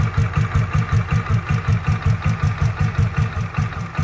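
Royal Enfield Bullet Machismo 500cc LB single-cylinder engine in stock mint condition idling, a loud close thumping beat of evenly spaced pulses, roughly five per second, steady and smooth throughout.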